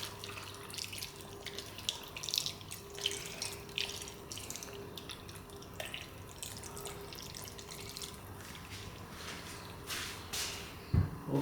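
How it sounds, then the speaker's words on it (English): Tap water runs and trickles steadily, about 240 ml poured into a pot for Cantonese chicken and potato stew, with faint drips and light kitchen clatter, and a sharp clunk near the end. "it's about 240 ml of water that we'll add"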